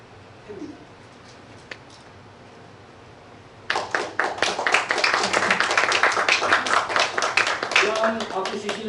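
Audience applause at a graduation and degree ceremony for a theological seminary breaks out after a quiet stretch with a few faint sounds, then continues as a dense, steady clatter of many hands clapping close by.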